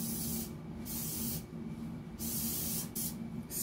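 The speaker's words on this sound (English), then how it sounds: "Spray with a little Lysol." Three short bursts of Lysol aerosol disinfectant spray hiss out, each about half a second to a second long, separated by brief pauses, close and clear.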